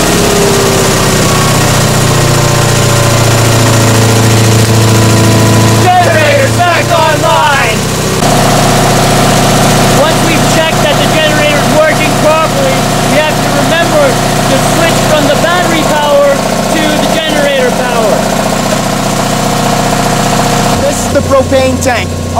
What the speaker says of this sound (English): Generator!